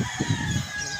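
Chickens cluck in a small backyard coop, with a rooster crowing close by amid steady background noise, in a brief burst.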